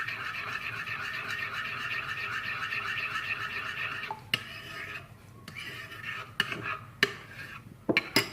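An orange glaze mixture is stirred gently in a bowl, first as a soft, continuous swirling, then as scattered light clinks and taps of the utensil against the container.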